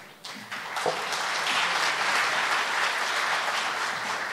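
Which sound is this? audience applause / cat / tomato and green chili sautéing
audience applause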